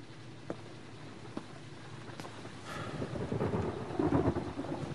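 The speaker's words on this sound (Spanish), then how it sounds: "Qué buenos efectos de trueno." Thunder in the video game Beyond: Two Souls, with steady rain hiss, a few sharp drips, then a deep rolling rumble that swells loud and lingers, no voices.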